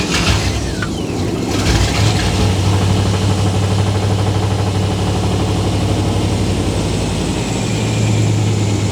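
A big block engine on a first-generation restoration project idles steadily and loudly up close, a continuous low rumble with a steady hum throughout and no talking.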